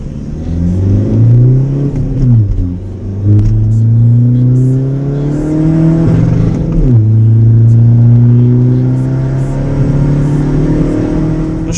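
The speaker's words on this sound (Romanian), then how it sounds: "Nu știu cât se aude prin GoPro cum sună mașina, dar sună super, super tare." A Skoda Fabia 1.9 TDI with a stage 2 tune accelerates hard, heard from inside the car. The loud diesel drone climbs steadily, breaks off at a gear change, then pulls up again.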